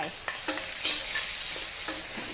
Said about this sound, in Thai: ผัดกุ้งแห้งกับกระเทียมก่อนนะคะ